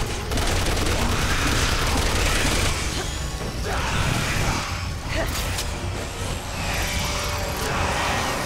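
Regular guns firing in Resident Evil 6 make a dense, continuous wash of loud gunfire and mechanical clatter with crashes layered through it, steady and close from start to finish.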